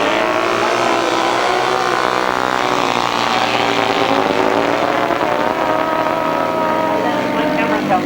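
Motorcycles racing in a 1992 grasstrack race, a continuous loud engine drone with rising and falling pitch as the bikes pass, heard throughout under a commentator's voice.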